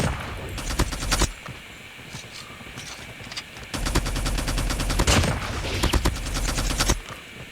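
Rapid bursts of DR-H assault rifle fire in a first-person shooter video game, sharp repeated shots in several clustered volleys separated by brief pauses, loud and close.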